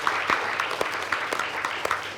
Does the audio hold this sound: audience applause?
yes